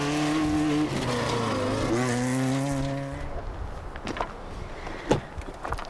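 A rally car's engine howls and tyres squeal in a loud skid lasting about three seconds, then the noise drops away to scattered bumps and a sharp knock as it comes to rest.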